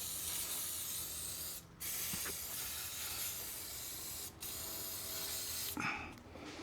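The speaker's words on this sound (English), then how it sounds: "Spray the battery terminals." An aerosol can sprays onto car battery terminals during a tune-up of an older vehicle, giving steady hissing bursts with short pauses between them, close and fairly loud with no talk.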